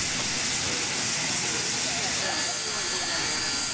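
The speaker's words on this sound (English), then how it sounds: "This is the largest steam engine still operating in the world." The largest operating steam locomotive hisses loudly and continuously, a broad close roar of escaping steam with no break across the span.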